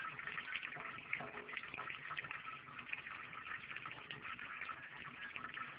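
A steady water stream pours continuously in a homemade water drop generator setup, a faint, even gushing hiss throughout with no talking.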